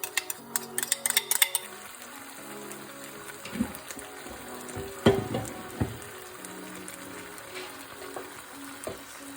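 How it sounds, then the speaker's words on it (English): Sauce poured into a hot pan bursts into a loud crackling sizzle that settles into a steady frying hiss with occasional clinks and pops. "we're just going to pour in our sauce"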